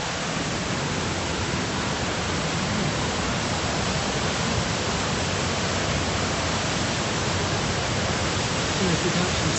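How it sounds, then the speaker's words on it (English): A waterfall in Glen Coe, Scotland roars as a steady, loud, unbroken wash of rushing water that fills the whole scene without pause. "So I appear to have found the falls."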